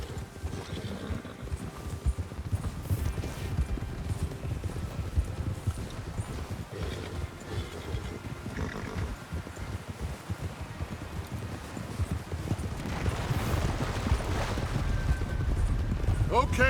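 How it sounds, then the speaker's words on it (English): Horses' hooves in the video game Red Dead Redemption 2 clop in a rapid, rolling rhythm across a stretch of ground, with wind and rustling around them and voices speaking over the hoofbeats. "Get your horses ready."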